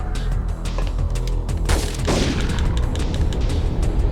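An energy shot attack blasts out in the PS1 game Parasite Eve II, a loud burst of gunfire-like booms and crackling over a steady busy game background, with a big surge near the middle before settling into continued rumble.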